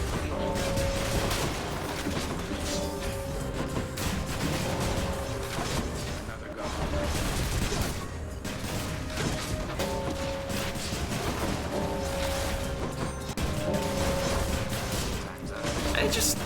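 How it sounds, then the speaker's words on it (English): Rapid ranged attacks pound a trove in Hades, a steady stream of crashing, clattering hits and thwacks layered over a sustained tonal game soundtrack, loud and dense throughout. "I was shooting the trove."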